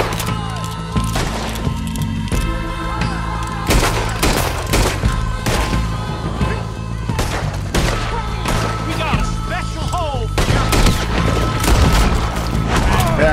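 Repeated loud gunfire from Red Dead Redemption 2, a dense run of sharp shots and booms at irregular intervals across the whole stretch, with mixed game sounds between bursts.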